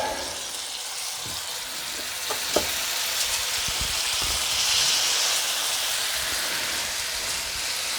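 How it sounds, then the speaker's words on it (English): Pork sirloin pieces sizzle steadily in a hot cast iron skillet, a continuous close, bright frying hiss with a few louder pops and crackles as meat goes into the pan, no talking. "now we'll go ahead and toss these in the skillet. Ooh, listen to that sound."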